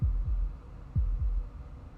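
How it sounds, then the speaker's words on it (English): Heartbeat sound effect from the video game Slay the Princess: deep, muffled low thumps in double-beat pairs, two lub-dub beats separated by a pause, over a faint hum. "That was the sound of a heartbeat,"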